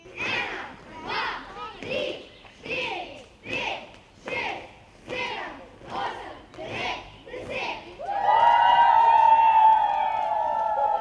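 Crowd at Reichenburg castle cheering cyclists passing by, first a rhythmic group chant in about nine steady bursts, then a louder sustained roar of shouting and whistling.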